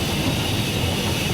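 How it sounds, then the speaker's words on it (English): A heavy steam locomotive train coasts along with the regulator shut off, giving a steady low rolling rumble and faint hiss without any distinct beats, alone and with no talk. "With the immense weight of the train, it doesn't necessarily start slowing down yet."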